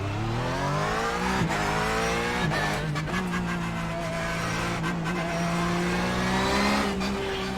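A race car in the iRacing simulator drones loudly and continuously. Its engine pitch climbs repeatedly and drops with each quick gear shift, with no talk over it.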